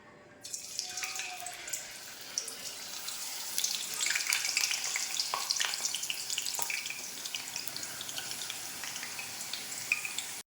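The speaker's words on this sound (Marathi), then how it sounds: "आता एका कढईमध्ये तेल तापत ठेवून एक एक करून किसलेला बटाटा टाका" Grated potato added piece by piece to hot oil in a kadhai, sizzling in a continuous bright crackle with scattered pops that swells after the first few seconds and stays steady.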